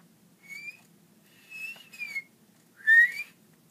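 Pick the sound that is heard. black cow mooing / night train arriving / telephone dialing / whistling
whistling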